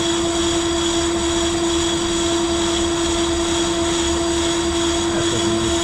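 A flywheel clutch face from a Detroit 2-53 engine that sat outside for 25 years is being refaced by machine, giving a steady, loud, droning whine with a constant hum and gritty cutting noise that runs unbroken throughout.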